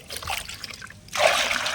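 Liquid leaf fertilizer poured into a 10-litre bucket already holding rice-washing water, a soft trickle giving way to a louder, close, steady splashing pour.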